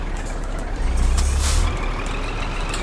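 A simulated truck in Euro Truck Simulator 2 reverses with a loud engine rumble, a steady reversing beep and a sharp hiss of air brakes, all close and with no talking.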